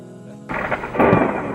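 Thunder breaks suddenly after a moment of quiet, a loud crack swelling into a deep rolling rumble that surges again before fading.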